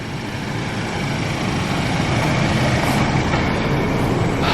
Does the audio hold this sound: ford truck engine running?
yes